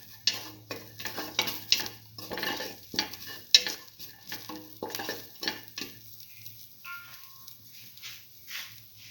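Black lentils and ash gourd with rice stirred in a frying pan, repeated scraping and clinking strokes over a soft sizzle, close up, easing off and growing quieter toward the end with no voices.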